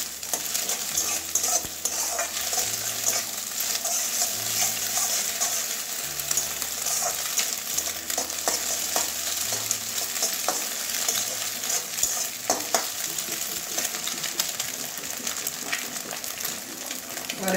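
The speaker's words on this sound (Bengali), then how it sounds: "ডিমটা ঝুরঝুরে করে একটু ভালো করে নাড়িয়ে নেব।" Egg chowmein stir-fried in a pan over medium heat with scrambled egg, giving a steady sizzle broken by repeated scraping and stirring strokes throughout, with no one talking.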